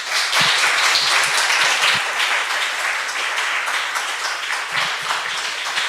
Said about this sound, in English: let's give a round of applause to Annika